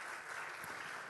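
Brief, faint applause from a church congregation at a couples' gathering, a soft continuous patter of clapping at low level, short and unbroken.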